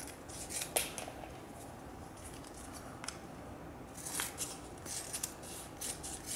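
Scissors cutting a strip of kinesiology tape, quiet close snips and rustling in a few short bursts over a faint background hiss.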